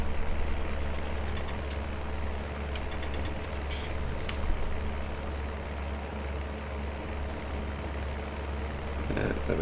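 An Agrostar tractor engine in Farming Simulator 19 drones at a steady low idle-like rumble for the whole stretch, loud and constant with faint clicks of field work on top.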